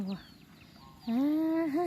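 A chicken clucks on a Lao farm where ducks and chickens are kept, a short squawk followed by a louder drawn-out cackling call, close and clear over faint outdoor background.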